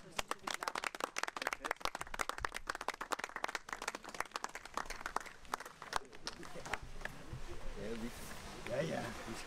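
An audience claps in a dense burst of many hands that thins out and fades, giving way to quieter room noise and faint voices toward the end.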